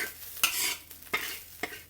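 Scraping, stirring strokes in a sizzling frying pan, three distinct sweeps of a utensil pushing shrimp fried rice aside over a steady crackle of hot oil.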